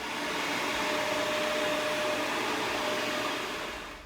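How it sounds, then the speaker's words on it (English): A vacuum cleaner runs steadily nearby with a loud, constant whooshing drone that holds level throughout and fades slightly at the end, with no talking. "Perfect for the date I have with the vacuum cleaner."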